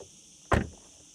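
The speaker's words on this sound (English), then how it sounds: "it's a decent door closing sound" A single solid thud as the frameless door of a Ferrari Amalfi shuts, loud and close, with a brief fading rattle afterward and quiet before and after.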